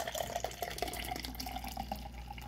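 Mountain Dew Baja Passionfruit Punch soda poured from a can into a glass, a steady close splashing and fizzing stream with small bubbly pops, heard alone without speech.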